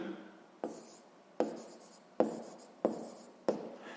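Pen writing a maths solution on paper, five distinct scratchy strokes spaced under a second apart, close and quiet, with no talk.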